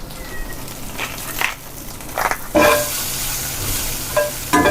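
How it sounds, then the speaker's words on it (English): Garlic frying in a pan over turned-down heat, with a steady close sizzle and several scraping stirs of a utensil against the pan, with no talk. "you basically just cook this until the garlic turns like golden and crispy"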